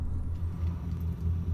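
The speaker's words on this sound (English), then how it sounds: "they have to keep those diesel trucks going" Diesel trucks idle outside a hotel at night, giving a steady, low rumbling drone that holds for the whole stretch with no voices.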